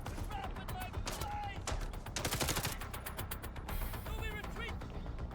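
Dense SMG fire in a third-person shooter, rapid loud bursts packed across the moment with a clear surge midway, speech faintly underneath.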